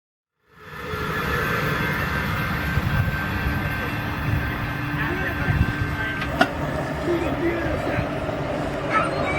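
A BNSF coal train in Girard, Illinois, heard as a steady, fairly loud rolling rumble that rises quickly and holds, with a faint sustained tone and a sharp clank partway through.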